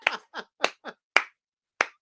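A person claps their hands, six sharp, separate claps in an uneven rhythm, loud and close, with no voice over them.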